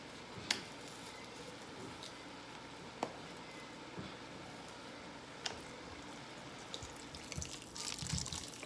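Vegetable broth is poured into a pot of carrots and potatoes for corn chowder, making a faint, quiet liquid trickle with a few soft splashes and clinks. No voices are heard.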